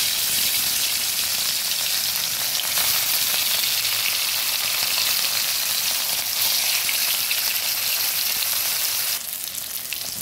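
Salted, turmeric-coated katla fish pieces fry in hot oil with a steady, dense, close sizzle that runs unbroken throughout, with no voices.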